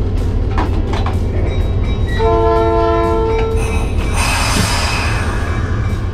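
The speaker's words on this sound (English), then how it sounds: "the train was maneuvered into the station under the guidance of the conductor and rear brakeman" The Skunk Train sounds its horn with a loud, steady chord while maneuvering into the station, over a heavy rumble of the locomotive and rolling cars, followed by a hissing release.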